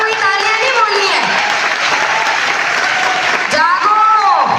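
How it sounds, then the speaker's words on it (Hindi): Loud, continuous crowd applause fills a cosmetic products training session, even and unbroken throughout, with a voice speaking over the clapping. "एक बार जोरदार तालियां हो जाए"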